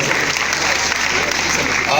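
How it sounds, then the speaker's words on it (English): Applause for Charles and the committee at a union congress session on the National Housing Fund: a loud, continuous roar of clapping from a large hall audience, unbroken across the short stretch. "I think Charles and the committee, they deserve a round of applause."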